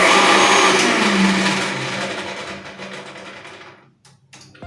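An electric blender loudly grinds onion, ginger and green chilies into a paste, a dense whirring roar that runs steadily for about four seconds, then cuts off and spins down to near silence.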